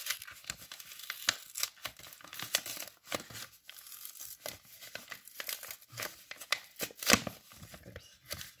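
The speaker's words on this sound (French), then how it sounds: "et on va ouvrir l'enveloppe" A paper envelope is torn open up close, with quick ripping and crinkling paper sounds that come in short uneven bursts, and one sharper tear near the end, in a quiet room.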